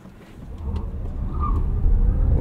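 A 2023 Genesis GV70 Electric Prestige accelerates hard in boost mode, a low motor and road rumble swelling steadily louder over a couple of seconds from inside the cabin, with a faint whine rising mid-way.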